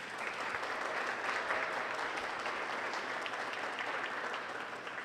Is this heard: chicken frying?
no